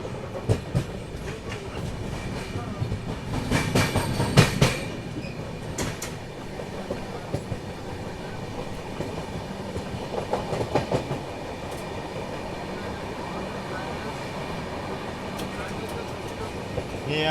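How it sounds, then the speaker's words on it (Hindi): The 11040 Maharashtra Express pulls away from a halt at Ajni station, wheels clattering steadily over the rail joints with bursts of louder clanking and a few squeals, moderately near, with faint background chatter. "फिलहाल हॉल्ट लेके अपनी ट्रेन वापस निकली है आगे अपने सफ़र में"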